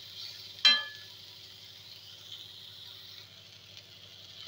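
Grated pumpkin drops into hot oil tempered with mustard seeds, dried red chillies, curry leaves and asafoetida. A sharp burst of sizzling at the start settles into a faint, steady hiss with soft stirring.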